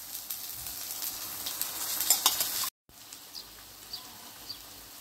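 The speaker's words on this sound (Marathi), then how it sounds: "आता ह्याच्यामध्ये आपण ह्या शेंगा घालू." Drumstick pods tipped into hot masala frying in oil sizzle steadily at moderate volume, with a brief stir and a short full silence midway before the frying hiss resumes.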